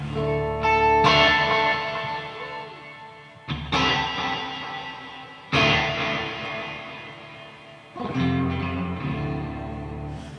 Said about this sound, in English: And then we have the new Searchlights reverb.